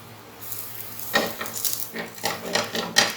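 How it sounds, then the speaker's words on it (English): Spatula scraping and tapping against a pan while flipping pancakes cooked in a little oil, a run of quick, close clinks and scrapes that grow busier toward the end. "I'll take the spatula to turn it upside down."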